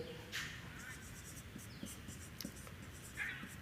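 Chalk or marker scratching across a board during a physics lecture on electrostatics, faint and intermittent strokes over a hissy room background, with no talking.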